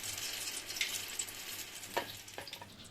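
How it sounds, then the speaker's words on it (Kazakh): Starch-coated eggplant pieces fry in hot oil with a soft, steady sizzle and a few light stirring scrapes, quiet and close, with no talking. "крахмалға салынған баклажанымызды қызып тұрған майға салып қуырамыз"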